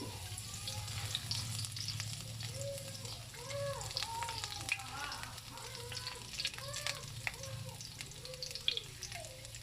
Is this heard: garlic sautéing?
yes